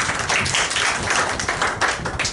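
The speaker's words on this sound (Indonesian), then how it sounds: "Tepuk tangan dulu buat Allah" Church congregation applauding during a worship service, a loud, dense wash of many hands clapping together, steady and continuous throughout.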